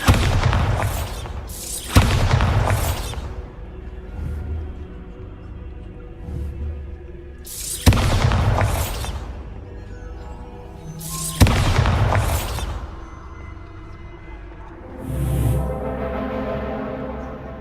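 Bombarda spell explosions in the video game Hogwarts Legacy: four loud, booming blasts at irregular intervals, each with a sharp onset and a rumbling tail, followed by a softer whooshing burst near the end.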